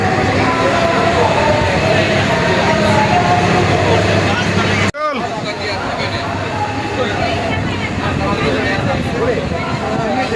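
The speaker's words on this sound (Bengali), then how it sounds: "ট্রেন ছেড়ে দিছে" A passenger train pulls out of a station with a loud, steady rumble and rattle that fills the whole stretch, broken by one sharp jolt partway through, while voices murmur faintly underneath.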